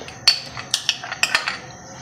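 A metal serving ladle clinks against a cooking pot as two spoonfuls of ghee go in for spicy smoky kaleji: a handful of bright, sharp metallic taps spaced irregularly in a quiet kitchen.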